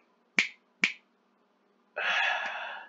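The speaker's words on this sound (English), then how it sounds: "Snapping my fingers." Two crisp, close finger snaps ring out about half a second apart, followed after a short pause by a longer hissing burst of noise.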